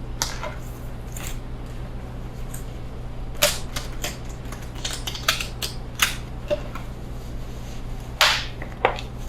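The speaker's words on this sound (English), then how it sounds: "we'll shuffle one more time" Sharp, sporadic riffling snaps and soft flicks of cards being shuffled, close up, over a low steady hum.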